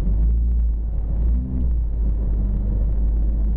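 A 2013 Shelby GT500 launches hard under launch control, its engine a loud, steady low rumble that dips briefly midway before surging again, close and continuous.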